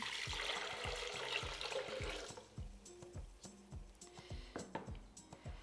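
Water pours from a container over soaked, peeled almonds for homemade almond milk, a steady splashing stream for about two seconds, then quieter drips and clinks of the vessel, faint and close.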